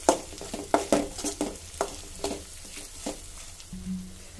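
Mayonnaise is stirred into pasta sauce in a frying pan. A utensil scrapes and clinks in a series of uneven strokes over a soft, steady sizzle, close and alone.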